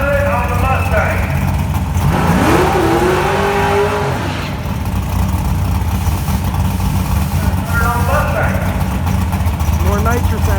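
Engine of a stock 2018 Ford Mustang running on nitrous, a loud close drone with rising revs and gear-change sweeps, voices talking over it.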